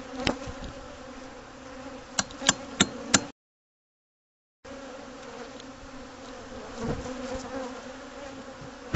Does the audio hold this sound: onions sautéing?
no